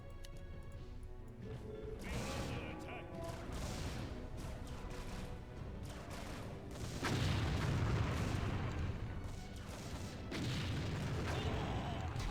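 Heavy mortar explosions and artillery fire in an Empire Earth space-age battle against hard AI, a dense continuous barrage of booms and crashes that swells louder partway through.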